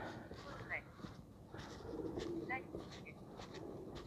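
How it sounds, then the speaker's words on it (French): Pigeons coo softly in short, low bursts in a castle keep at night, against a murky, reverberant background with some faint chirps. "On entend des pigeons."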